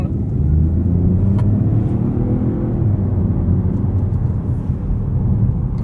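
Inside a Peugeot 408 facelift on the move, a constant low tyre rumble and road roar fill the cabin at a steady level, broad and droning with no speech over it.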